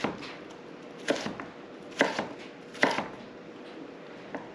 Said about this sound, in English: chop it up with the Santoku knife